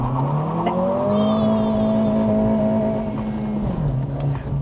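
A 2023 Acura Integra with a manual gearbox launches hard from a stop on an empty road, its engine rising to a sustained high rev and then dropping as it shifts, heard loud and close from inside.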